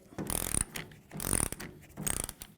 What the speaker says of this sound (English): Remove those using a 13mm socket.